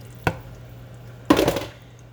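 Tomatoes dropped into a pot: a short thud, then after a pause a heavier clattering splash of pieces landing close by, over a steady low hum.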